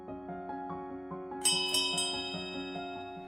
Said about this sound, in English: That's the sound of the bell letting us know that the pub will soon be closing.